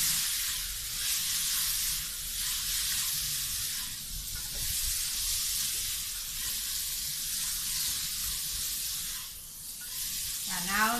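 Pork cracklings, chili paste and turmeric stir-fried in a pan give off a steady, moderately loud hiss and sizzle that runs unbroken with small swells, and a brief tonal squeak comes at the end.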